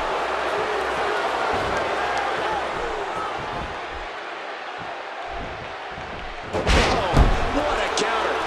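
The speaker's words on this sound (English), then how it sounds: "She gets slammed to the floor." A wrestler is slammed to the mat during a women's wrestling match, a sharp loud impact near the end, standing out against steady crowd noise from a large arena audience.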